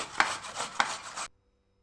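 A few rough rasping strokes of two potatoes being grated, two sharper scrapes standing out, then abrupt silence.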